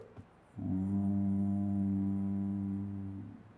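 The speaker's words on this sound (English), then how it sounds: "with exhalation you make sound from the throat" One sustained throat hum of humming bee breath (bhramari pranayama), low and buzzing, rises in on the exhale after a short breath and holds steady for under three seconds before fading out.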